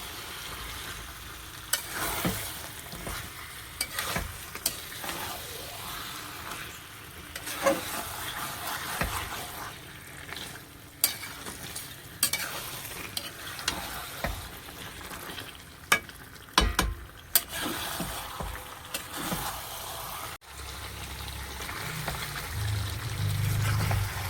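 Chicken sizzles and fries steadily in oil in a pan, with repeated scraping and stirring strokes over the continuous crackle, close and fairly loud throughout.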